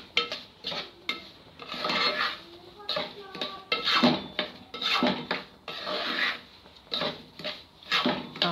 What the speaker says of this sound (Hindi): आप इसको बिल्कुल स्लो फ्लेम पे भून लें।